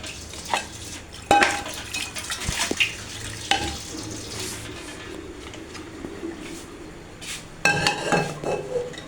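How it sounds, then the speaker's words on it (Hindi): A tea pot set on the stove in a home kitchen during breakfast cooking, with scattered metallic clanks and clinks of pots and utensils, fairly quiet between the sharper knocks. "चाय का मैंने बर्तन ऊपर रख दिया है।"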